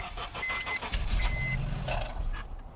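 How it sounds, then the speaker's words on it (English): Honda CR-V engine cranking without catching, check engine light on: a rhythmic, repeated starter churn close by, steady pulses over about two seconds before it trails off, no talking. "Try to start the engine. It's cranking, but it's not starting."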